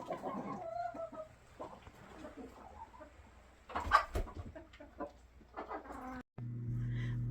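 Chickens cluck and chatter in scattered bursts at close range on a Maine farm, with a louder flurry near the middle and a low steady hum underneath.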